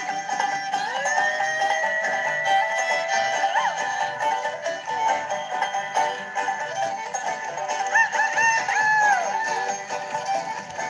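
A fiddle played with a bow imitates chicken sounds in an old-time string performance, sliding clucks and crowing-like squeals over steady bowed tones and accompaniment, loud and continuous for about eleven seconds.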